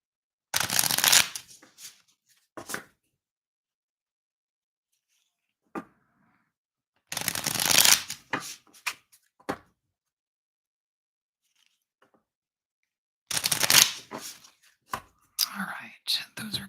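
A deck of playing cards is riffle-shuffled three times in crisp, close bursts, each followed by a few soft taps and clicks as the deck is squared, with quiet pauses between.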